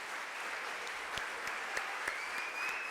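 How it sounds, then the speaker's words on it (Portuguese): A church congregation at a New Year's Eve service claps together, a soft, steady wash of applause heard from a distance with a few sharper individual claps and a faint tone in the background. "Vamos aplaudir ao Senhor Jesus"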